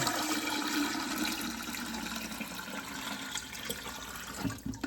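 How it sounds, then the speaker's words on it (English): Water pours steadily into a UV water filter canister, a continuous close splashing and gurgling that fills the clip, fading slightly toward the end. "I'm just gonna simply pour the water on in."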